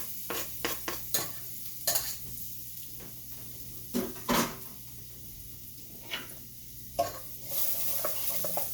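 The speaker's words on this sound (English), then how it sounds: "I have the diced garlic and ginger in there. You just want to saute that until it gets a little translucent" Diced garlic and ginger sauté in a pan at home, a soft low sizzle punctuated by several sharp spoon scrapes and knocks against the pan, close and otherwise quiet.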